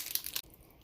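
Foil flavor packet for instant soup torn open with a short, crinkly crunching rip up close, followed by near silence.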